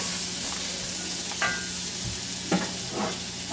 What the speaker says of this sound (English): 3 cloves of garlic minced. Kind of stir that around and let it get going.